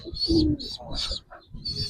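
An old-breed brown-necked Giribaz pigeon coos in a loft, low rolling calls in two or three bursts close by, with faint chirps overhead.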